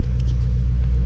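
A BMW E30 fitted with a swapped M62 V8 idles close by, a steady deep low rumble that holds even throughout with no talk over it.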